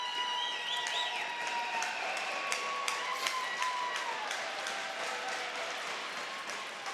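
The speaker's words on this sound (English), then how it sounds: "as you hear the ovation from the crowd" A hockey crowd gives a sustained ovation, dense clapping and cheering filling the arena at a steady level, with tonal notes ringing through the applause.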